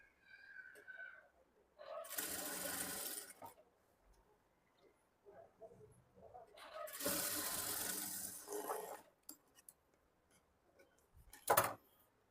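A sewing machine stitching a blouse runs in two sustained bursts of rapid mechanical whirring, separated by quiet pauses, followed by a few brief clicks and a sharp knock at the end.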